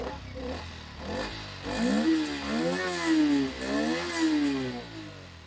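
A Rieju MR PRO 125 motorcycle, 125 cc, with an offroad exhaust revs repeatedly with a rough, throaty exhaust note, rising and falling in pitch, loud and close.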